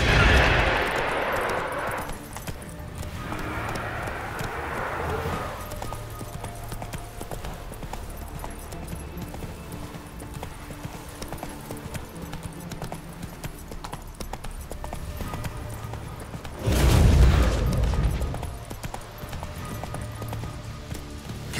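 A horse gallops in The Witcher 3 video game, with steady, repeating hoofbeats running throughout, a louder rush of noise at the start and a sharp loud burst near the end.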